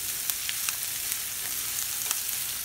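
Onions and bacon sizzle steadily in a frying pan while being stirred, a continuous hiss with small crackles and pops scattered throughout, close and moderately loud with no voices.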